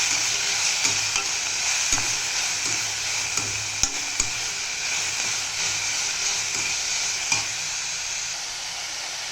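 Carrots and green peas sautéing and sizzling in a pan for a bird's nest cutlet, a steady broad hiss with occasional spoon clicks and scrapes throughout.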